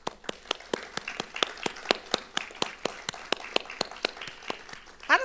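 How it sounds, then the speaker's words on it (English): Sparse applause at a winter university nursing graduation ceremony, a few pairs of hands clapping in a steady, evenly spaced rhythm, crisp and fairly close, with a brief voice rising at the very end. "give them a round of applause"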